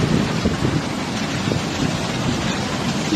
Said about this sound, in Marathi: हे आहे नरमादी धबधबा नळदुर्ग किल्ल्यामधला.